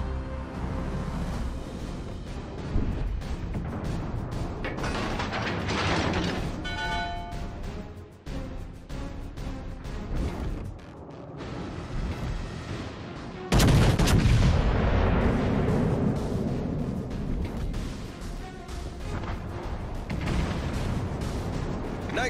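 Naval gunfire from warships in the video game World of Warships: Legends, a dense, continuous barrage of booming cannon shots and explosions with a louder burst partway through, sustained throughout with no talk.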